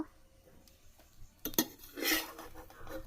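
Pumpkin flower fritters lifted one by one out of hot frying oil in a pan, with a couple of sharp metal utensil clinks and scrapes against the pan over a low background, louder toward the middle and end.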